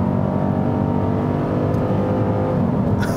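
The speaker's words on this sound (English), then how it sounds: "Where they don't need to really improve in is sounds of the engines." A 2018 Dodge Durango SRT, a heavy performance SUV, with its engine running in a steady, loud rumble that holds throughout, with no talking over it.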